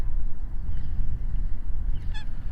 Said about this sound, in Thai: ตรงนี้ก็เป็นน้องเป็ดที่น่ารัก ไม่รู้สายพันธุ์อะไร